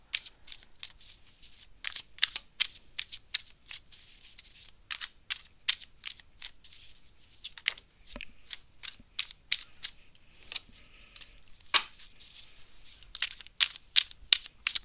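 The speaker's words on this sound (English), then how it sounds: "I'm shuffling for you." Tarot cards being shuffled by hand during a live reading, close up. The riffling and slapping comes in quick irregular bursts with short pauses between them, and nobody speaks.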